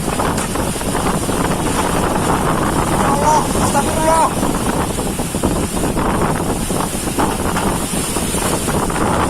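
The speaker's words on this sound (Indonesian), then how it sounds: "Keganasan angin puting beliung terekam kamera ponsel warga yang rumahnya dekat sawah" A violent tornado whirlwind tears across rice fields beside village houses in Sukatani, Lampung. Its roaring, gusting wind blasts loudly and continuously over the microphone, with faint voices beneath.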